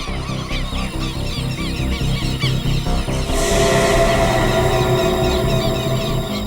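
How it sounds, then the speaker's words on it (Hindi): Many birds call at once, honking in loud, goose-like overlapping cries that rise to a fuller, more intense chorus midway and stay close and constant. "पक्षियों की आवाज सुन रहे हैं आप?"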